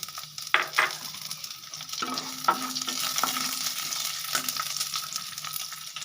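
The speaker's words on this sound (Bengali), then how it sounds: "খুব ভালোভাবে নেড়ে চেড়ে কিন্তু মিশিয়ে নিলাম" A whole roughly chopped onion sizzles and crackles in a hot pan while a spatula stirs and scrapes now and then, with a couple of sharper knocks near the start.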